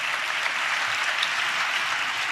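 A church congregation claps in praise to Jesus during a pastor's sermon, a dense, even roar of many hands at moderate level, continuous and without speech.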